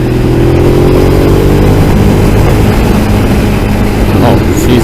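A Ducati Monster 821 motorcycle engine holds a steady mid-pitched drone near 4,400 RPM while riding through a run of turns, close and loud, with a rider's voice occasionally over it.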